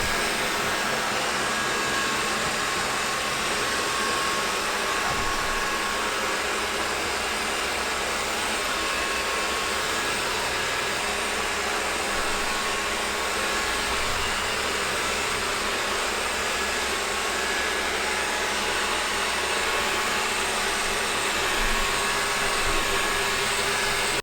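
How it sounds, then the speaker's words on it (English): A Roborock S5 robot vacuum runs steadily on a table, its loud, even whir of motor and suction holding constant with no talking throughout. "vacuum will find the whole surface of the table, vacuum the whole thing"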